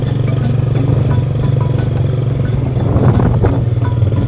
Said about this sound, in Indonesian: Ada motor depan.